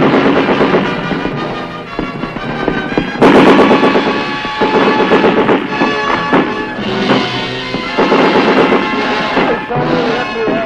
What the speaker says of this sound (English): Progress is halted because of enemy mortar and automatic weapons fire.